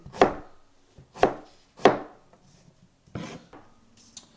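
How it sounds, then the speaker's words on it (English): Kitchen knife cutting a halved onion into thin slices on a chopping board for restaurant-style onion bhaji, with five or six separate crisp thuds at an uneven, unhurried pace and quiet gaps between cuts. "you want to cut the onion in half, and then in quite thin slices like that"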